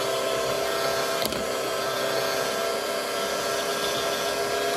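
Motor of a Moulinex Type 116.2.02 electric hand whisk running steadily, a close, loud continuous whirring hum with one brief clatter early on, no voices over it.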